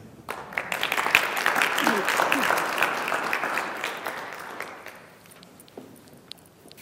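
An audience claps steadily to welcome a guest speaker at a political science lecture event, the sustained applause of a room of listeners swelling then gradually thinning out and fading near the end.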